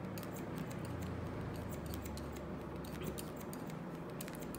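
A barber's scissors snip through hair during a classic haircut. Quick, crisp metallic clicks repeat irregularly over a steady, faint background hum. No speech.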